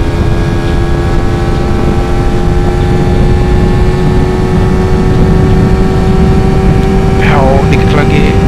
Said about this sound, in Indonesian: sekarang coba digeber dikit